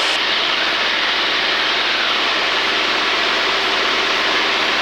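A Luscombe light airplane's engine drones loud and steady just after takeoff, a dense unbroken roar filling the cabin with no voices.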